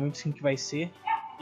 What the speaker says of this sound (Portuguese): Desculpa o latido dos cachorros.